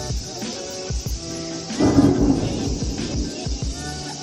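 Thunder before a storm, a loud low rumbling roll swelling midway under steady outdoor noise.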